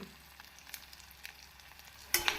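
Asafoetida powder is tempered in hot oil for venpongal, giving a soft, quiet sizzle with faint scattered crackles and a sharper, louder spit near the end.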